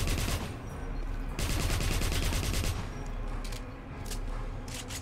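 Rapid bursts of automatic gunfire from the video game Wolfenstein (2009), loud and sustained in several dense volleys with short pauses between them.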